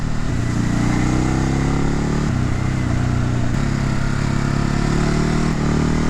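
Ducati Hypermotard 950 twin-cylinder engine under way, loud and close, with a steady droning roar whose pitch rises through the gears, broken by quick upshift dips.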